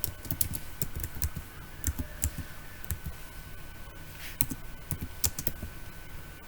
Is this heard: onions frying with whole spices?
no